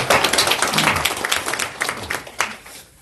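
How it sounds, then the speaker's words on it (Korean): Audience applause after a talk at a Daegu future-vision lecture, a loud burst of many hands clapping that thins out and fades toward the end. "네, 박수."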